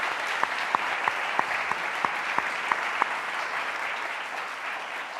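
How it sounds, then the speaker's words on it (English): Steady audience applause at a museum event, a dense wash of clapping that holds evenly throughout with a few sharper individual claps standing out near the start, no voices over it. "Let's give them all another round of applause."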